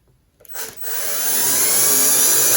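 A power driver sinks a self-tapping screw into an arcade control panel: after a couple of faint clicks, a high motor whine starts and holds steady, loud and close, with no talking.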